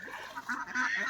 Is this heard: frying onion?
no